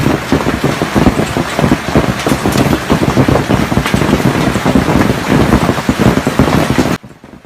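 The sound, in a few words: hailstorm, hail hitting streets in Sichuan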